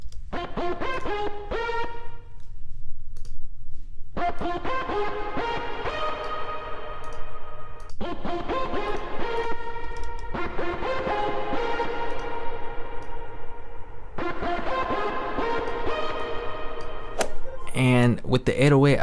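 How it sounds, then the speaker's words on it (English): An ambient lead synth with reverb plays in a hard trap beat being produced. It plays phrases of bright harmonic notes that ring out with echoing tails, separated by brief gaps. "Let's get a nice reverb on here."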